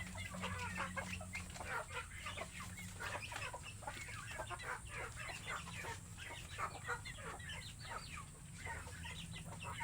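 Chickens at a poultry farm cluck and call continuously in a dense chorus, with overlapping rhythmic clucks over a steady low hum, no talking.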